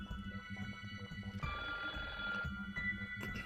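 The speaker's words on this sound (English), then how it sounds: "The big, black, and somewhat antique-looking telephone on the counter was ringing." An antique black telephone in the video game SeaBed rings in repeated bursts of metallic trilling, steady and moderately loud over a low background hum, with no talk.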